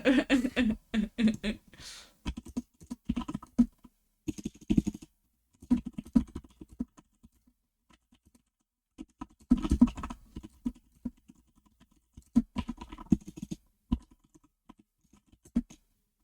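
Bursts of typing on a computer keyboard placed some distance from the microphone, in clustered rattles with brief pauses between, fairly soft and alone.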